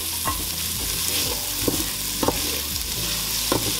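Onion and garlic fry in a pan that still holds meat drippings, making a dense, constant sizzle under scattered scraping strokes of a utensil, close and steady without speech.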